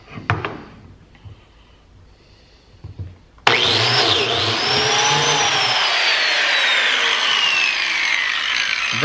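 A DeWalt plate joiner (biscuit jointer) cuts a slot in wood: a few light handling knocks, then the motor snaps on loudly and holds a steady high whine and rushing cut to the end, close and alone.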